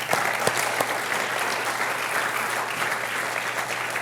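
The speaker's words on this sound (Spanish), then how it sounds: "Den un aplauso al Señor." A church congregation applauds steadily for the Lord, a sustained, even wash of many hands clapping at moderate volume, with a low hum running beneath.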